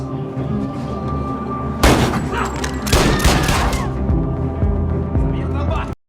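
A shootout breaks out in a violent action scene, with sharp bursts of rapid gunfire and heavy booming shots erupting over a tense low rumble, loud and close before cutting off abruptly.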